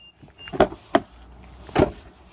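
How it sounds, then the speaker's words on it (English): A 2017 Mitsubishi Outlander ES door unlocks from the outside button. Two sharp mechanical clunks come close together, then a third follows after a pause, all near and distinct over faint background hiss. "Push it once to unlock your driver's door."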